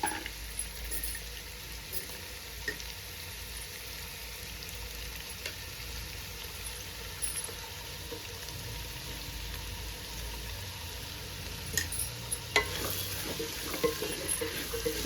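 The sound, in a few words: stirring vegetables in pan for pulao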